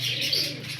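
Quality Qasori breed pigeons coo softly and steadily nearby, a low throaty murmur with a faint chirp layered over it, with no talking.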